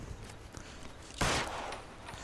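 A single loud gunshot in L.A. Noire, a sharp burst with a short decaying tail, set against quiet background game noise.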